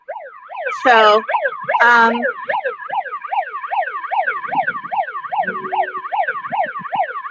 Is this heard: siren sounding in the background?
yes